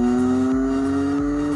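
Electronic start-up sound from a children's 12V BMW 1200RT police ride-on motorcycle, a loud, steady synthesized engine tone with a rhythmic pulsing beneath it, played alone.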